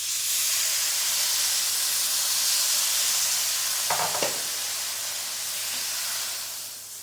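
Milk poured into hot rice halwa in a pan sizzles in a steady, close, broad hiss, with a brief stirring scrape midway, fading slightly toward the end.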